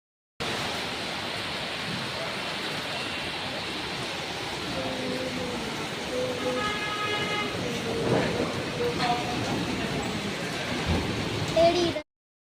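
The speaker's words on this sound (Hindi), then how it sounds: "बारिश तो हो रही है लेकिन अब बारिश थोड़ी सी कम हो गई है।" Steady rain pours outside a home during a storm, a dense continuous hiss that swells slightly toward the end, with no distinct thunder crack standing out.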